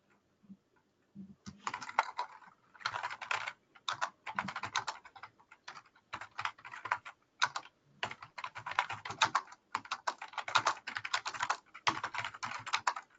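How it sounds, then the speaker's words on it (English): Loud, rapid typing on a computer keyboard, clattering in bursts with brief pauses, close to the microphone and heard alone. "even though your cam's killed, your keyboard's still really loud"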